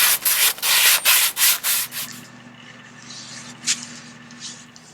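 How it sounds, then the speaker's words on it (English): Old wooden furniture being sanded by hand before spray painting, a run of brisk, loud rubbing strokes for about two seconds, then the scraping stops and only faint low rustling and a soft brush remain. "I'm first of all going to prep them both by giving them a good sand down"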